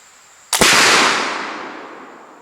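A flintlock rifle fires once, outdoors: a sharp, loud close report followed by a long, slowly fading rumble and echo.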